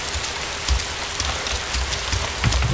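Steady rain falls in the video game DayZ, a dense even hiss with scattered heavier drops and low rumbles, heard alone with no talking.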